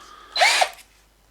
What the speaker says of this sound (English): the whole idea of this is just to see how it drills, really